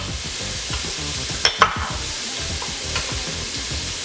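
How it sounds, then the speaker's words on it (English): Onions and cumin frying in a pan while being stirred, a continuous close sizzle broken by a few scraping clinks of the utensil against the pan. "I'm gonna give those a nice stir"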